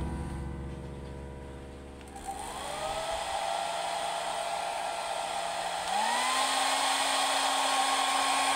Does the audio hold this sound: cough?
no